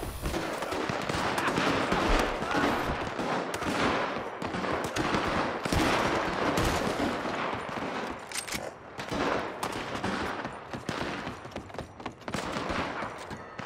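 Heavy gunfire in the Red Dead Online video game, rapid overlapping shots in dense bursts that run almost without a break, some close and sharp, others more distant, with no voices.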